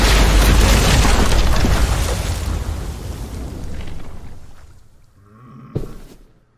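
A bomb goes off in a post-apocalyptic drama scene, a loud sustained roaring blast with heavy low rumble that slowly fades, followed by a sharp secondary bang near the end.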